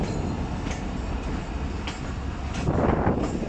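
The Thall Express, hauled by Alco and EMD locomotives between Rawalpindi and Mianwali, rolls along in a steady, dense rumble of wheels and carriages, heard close and continuous with occasional faint squeals and a slight swell near the end.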